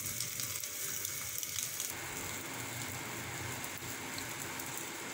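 An egg fries in a pan for a poriccha egg biryani, giving a steady soft sizzle and crackle throughout, fairly quiet and with no talking.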